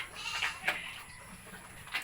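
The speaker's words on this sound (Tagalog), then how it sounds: "Ang ingay ng kambing." Several goats bleat in short, nasal calls, one after another at irregular intervals, fairly close, over a quiet outdoor background.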